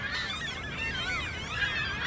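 A goose honks again and again at close range, a steady run of harsh, nasal calls lasting the whole stretch with no pause. The setting is an outdoor spot in Canada.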